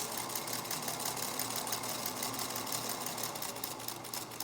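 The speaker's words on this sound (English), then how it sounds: "then I'm gonna sew again" A sewing machine stitches quilt bias binding strips with a continuous, even mechanical whir that runs steadily throughout without pause, heard close up and with no voices.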